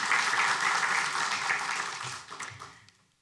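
An audience at a city council meeting claps, moderately loud at first and then thinning out and fading to silence near the end.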